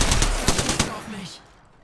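Automatic weapon fire in Apex Legends rattles in quick, evenly spaced close shots for about a second, then trails off into a fading echo, with faint voices underneath.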